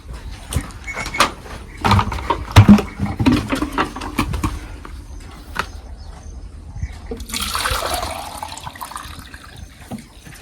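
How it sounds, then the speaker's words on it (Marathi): Water is poured into a crop spray tank on a soybean farm, with irregular splashes and knocks followed by a steadier gushing fill, close to the microphone. "पाच डबे पाणी टाक ते स्टिकर आहे नंतर टाकू"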